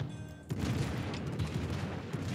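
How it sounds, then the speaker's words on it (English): A naval gun salvo of high-explosive shells in the ship battle game World of Warships, heard as a sharp onset followed by a dense, continuous rumbling barrage that fills the whole short stretch. "Especially because I'm gonna miss every single one of these salvos."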